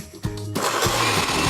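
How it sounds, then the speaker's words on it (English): A kitchen blender starts up partway through, blending strawberries with water into a loud, steady whir with a few rhythmic surges, after a quieter moment at the start. "Oliver, do you want to turn the blender on"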